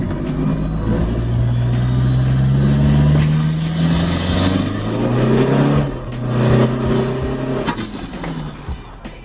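A tuned Toyota Fortuner with a 1KD-FTV diesel engine making about 454 wheel horsepower revs hard at a launch. A loud rising engine drone climbs with a high turbo whistle, holds, then drops away, heard close up with no talking.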